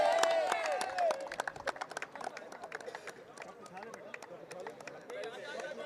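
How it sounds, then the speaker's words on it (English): Crowd applauding the champion team at the post-match presentation of the Sharjah Ramadan T20 League cricket final, dense rapid clapping throughout, mixed with crowd chatter and a loudspeaker voice. "Once again, a round of applause for Z Game Strikers, the champions of the 36th Sharjah Ramadan T20 League."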